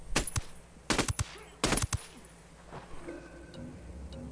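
Video game gunfire from Ghost Recon Wildlands comes as a few quick bursts of sharp automatic shots in the first two seconds, then quieter game ambience with faint clinks.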